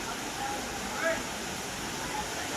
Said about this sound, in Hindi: काली घाट और काली घाट के बीच में ये है झरना छोटा सा।